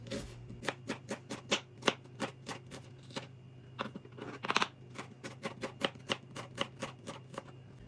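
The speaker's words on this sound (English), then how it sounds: "Time to cut up the onions. So I'm going to cut mine into little feathers." Knife chopping onions into thin slices on a board, a quick steady run of about thirty sharp close taps with a brief busier burst midway and a low hum underneath.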